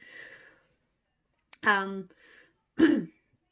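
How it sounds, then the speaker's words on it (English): Someone nearby clears their throat with a couple of short, rough rasps, following a brief bit of speech. "clearing my throat"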